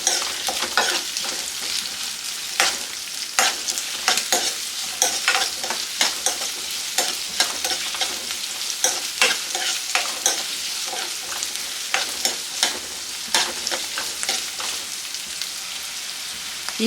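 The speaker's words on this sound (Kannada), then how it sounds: "ಈಗ ಇದನ್ನು ಚೆನ್ನಾಗಿ ಫ್ರೈ ಮಾಡ್ಕೋಬೇಕು." Chopped onion and curry leaves fry in a pan with steady oil sizzle and crackle, while a spoon stirs and scrapes in a loose, repeated rhythm. It is close, constant and has no talk over it.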